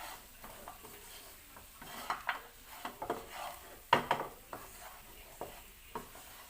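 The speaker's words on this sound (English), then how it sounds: "We have to mix it well until the peanut butter absorb." Pork stew in a thick peanut butter sauce stirred in a pot, a spoon scraping and clinking against the metal in irregular strokes with a faint sizzle underneath, close and fairly quiet.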